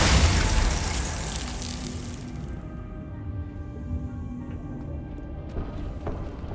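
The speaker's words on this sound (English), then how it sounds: "Glacius." A Glacius ice spell bursts in Hogwarts Legacy, a loud whooshing blast at the start that decays into a lingering, glittering icy shimmer with small crackles.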